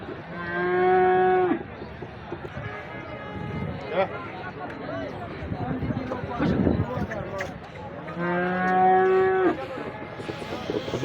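A water buffalo at a Kharian livestock market moos loudly twice, a long drawn bellow at the start and another near the end, with market chatter and background voices filling the gap between them.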